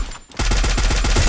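Rapid bursts of automatic gunfire in a battle royale shooter match, a brief lull and then a dense, loud run of repeated shots ending in a headshot kill, with no talk over it.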